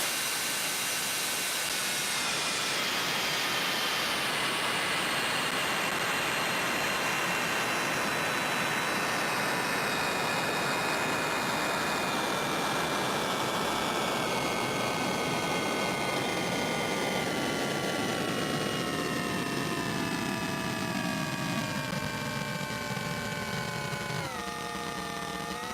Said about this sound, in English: listen to what we can do with the timbre if we start to bit reduce a noise source